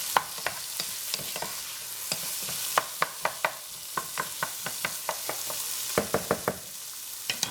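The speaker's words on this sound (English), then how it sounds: "And give it a stir." A spoon stirs a pot of ham and vegetable soup with tortellini, sharp clinks and knocks against the pot coming in a quick, uneven rhythm over a soft bubbling background.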